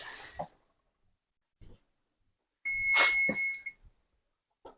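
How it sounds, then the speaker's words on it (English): A kitchen timer buzzes for a baked dip with one loud, sustained electronic tone lasting about a second, set among short, quiet sounds of kitchen activity. "And there's my buzzer for our dip."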